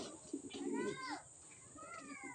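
Pigeon-like cooing at a racing pigeon loft in Taytay, Rizal, as a racer arrives; brief soft calls sound close by, with people talking over them.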